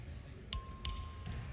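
A House clerk's voting bell in a legislative chamber gives two bright, ringing strikes about a third of a second apart, each with a sustained metallic tone over a quiet room.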